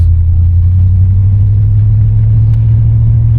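A 1987 Chevrolet Monte Carlo SS Aerocoupe drives steadily along a straight road, with a loud, constant low engine rumble and road drone close by throughout.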